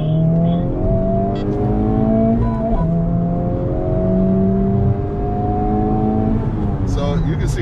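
A Honda Civic Type R accelerates hard on a test drive, its loud, close engine note climbing steadily in pitch, dipping briefly at each gear change, then rising again, with occasional voices mixed in.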